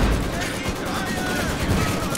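Machine gun fire in Company of Heroes 2, rapid continuous rattling bursts mixed with other battle noise, with voices talking over the fighting.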